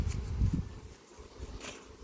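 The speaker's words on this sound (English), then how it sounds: "A bee came and stole it." A low bee buzz drones near the start, then fades into a quieter hum that lingers faintly.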